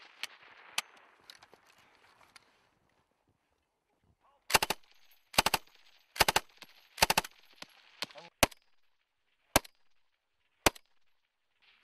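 A machine gun lays down suppressing fire on a live-fire assault range with US Marines and Australian soldiers. After a quiet stretch, loud short bursts crack out in a rapid cluster, followed by a few spaced single shots echoing across open ground.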